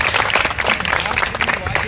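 Audience applause at an open-stage Raut Naach folk dance event rolls on as a dense, steady wash of clapping for the whole stretch.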